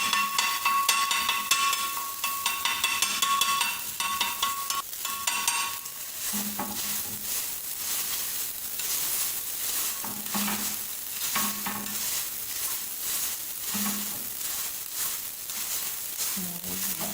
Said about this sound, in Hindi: टाइम पे हम अंडे को पलट लेंगे। ऐसा कर लेना है भुजिया की तरह।